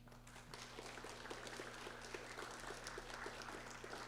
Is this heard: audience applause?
yes